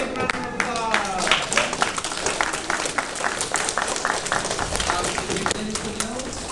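Children and parents at a school visit day clap for their teachers, a lively, uneven patter of many hands with a few sharper claps, steady throughout, while voices and children's chatter rise underneath.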